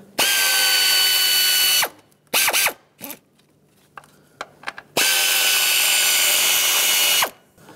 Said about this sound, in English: Now I'm going to try and unbolt this harness. There's 3 10mm nuts that hold this on.